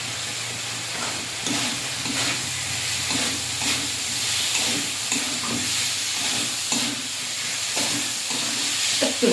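Fish curry being sautéed in a pan, a dense hissing sizzle throughout, broken by repeated soft stirring scrapes at a loose rhythm, close and moderately loud, without speech.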